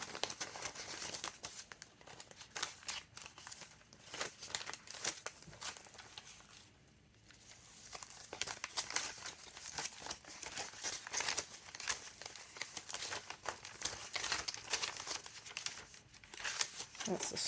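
Paper crinkling and rustling almost without pause as envelopes and special papers are handled in a chunky sunflower junk journal, with a short quieter lull partway through.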